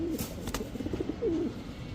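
Old-breed red-necked pigeon cooing repeatedly in short, close, moderately loud calls over a steady background murmur, with a more distinct coo near the end.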